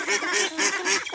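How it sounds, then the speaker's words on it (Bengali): Ducks on a farm pond calling in a close, continuous chorus of nasal quacks and honking cries, several birds overlapping in a busy loud rhythm. "দেখুন কতগুলো হাঁস"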